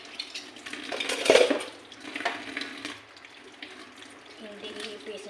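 Plates and utensils clatter in a kitchen sink during nighttime dishwashing, with running tap water and scattered clinks, one louder knock near the start, all fairly close and alone without talk.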